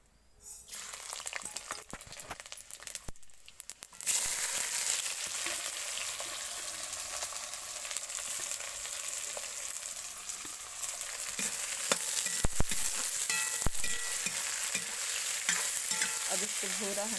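Spices such as fenugreek, cumin, green and red chili and garlic sizzle and crackle in hot oil, a steady close frying hiss that swells after a quiet start with occasional stirring scrapes, no voices.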